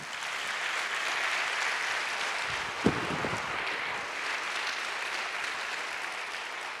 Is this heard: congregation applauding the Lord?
yes